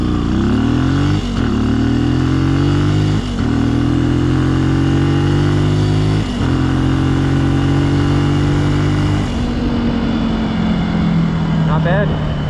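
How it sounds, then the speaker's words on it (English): A Benelli motorcycle, geared with an extra front sprocket tooth, pulls away from a red light on a city street, its loud engine climbing in pitch through several gear changes, each shift briefly dipping the revs before rising again. "Now let's see how the acceleration is impacted with that extra tooth up front."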